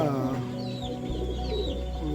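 Chickens clucking and murmuring close by, soft overlapping calls over a low steady hum, with a voice talking alongside; one hen is sick with fowl pox affecting its eyes.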